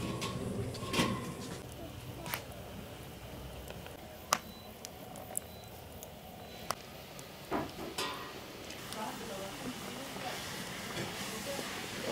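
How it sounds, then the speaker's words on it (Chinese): Covered pot of pork belly, eggplant and carrot vegetable rolls steaming over high heat gives a steady, fairly quiet hiss for about twelve seconds, dotted with a few sharp clicks and taps. "盖上锅盖，大火蒸半个小时。"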